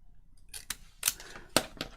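Scissors snip through paper for a junk journal in several sharp, close cuts spaced unevenly over a couple of seconds, each a crisp snap with a short rustle in between, heard alone with no talking.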